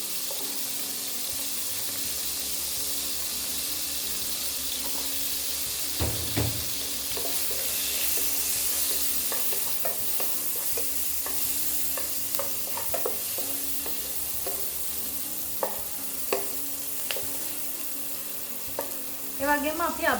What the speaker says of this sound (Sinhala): දැන් මේ ලුණු සුදු ලුණු රන්වන් පාට වෙනකම් අපි පොඩ්ඩක් මේක මේ විදිහට